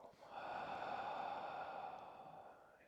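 A deep breath is pushed fully out through the mouth during a yoga flow, one long, breathy whoosh that swells, holds and slowly fades, close to the microphone and alone.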